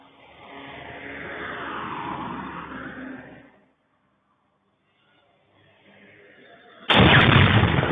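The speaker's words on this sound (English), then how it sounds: "a Ukrainian drone actually hit a telephone pole" A Ukrainian attack drone in Shebekino buzzes and whines as it approaches, goes quiet, then hits a telephone pole and explodes in a sudden loud, broadband blast that rumbles on to the end.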